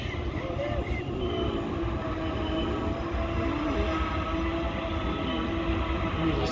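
Freight train passing through the Spiral Cut, a sustained rolling rumble of wagons over the rails with faint wheel squeals, moderately close and steady.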